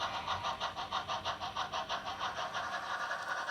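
Bachmann Alco 2-6-0 model locomotive running with its DCC sound decoder, giving a steady rhythmic chuffing pulse at about three beats per second, moderately loud and alone with no talk.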